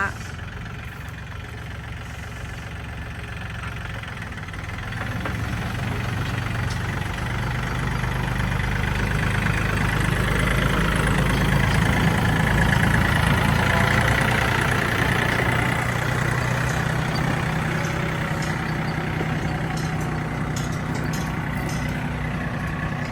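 A used Yanmar 39 tractor engine idles with a steady low diesel rumble that rises a little partway through, with someone talking over it.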